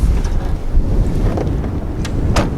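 Steady buffeting wind rushing through an open Land Cruiser window, a rough roar filling the space with a couple of brief sharp rattles.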